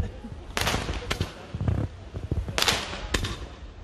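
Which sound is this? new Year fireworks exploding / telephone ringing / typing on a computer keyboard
new Year fireworks exploding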